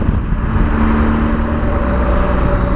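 A 2017 BMW R1200GS motorcycle's engine drones steadily while riding at speed, loud and close, its continuous rumble mixed with wind noise.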